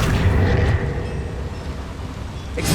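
A Confringo spell explodes in the video game Hogwarts Legacy, a loud booming blast that swells at the start and rumbles away over a few seconds, with another burst rising at the end.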